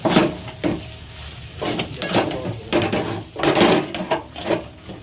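Fried spice masala being stirred and mixed in a pan, with repeated scraping and clanking of a utensil against metal in uneven strokes over a soft sizzle.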